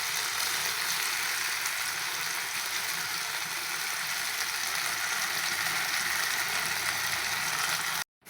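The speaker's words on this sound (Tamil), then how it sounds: "தவா உருளைக்கிழங்கு வறுத்தாச்சு, எடுக்க போகிறோம்." Potatoes frying on a tawa give a steady, even hiss of sizzling oil that holds for about eight seconds before cutting off abruptly.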